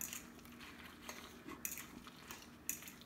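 A fork mixes a raw vegan cho cho salad in a bowl, making faint, close clinks and light scraping against the dish that repeat irregularly over steady background hiss.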